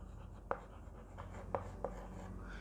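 A lecturer writes on a board during a biology class on reproduction, giving three faint, brief taps of chalk or marker against a low hum, with no speech.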